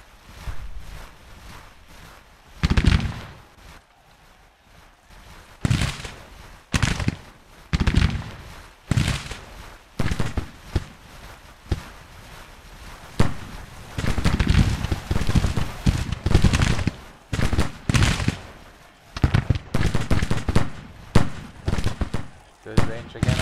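Musket and rifle gunfire in the Civil War strategy game Grand Tactician, with loud, sharp volleys of shots and crackling bursts, some in quick clusters, while someone talks between them.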